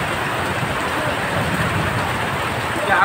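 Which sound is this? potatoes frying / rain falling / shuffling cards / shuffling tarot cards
rain falling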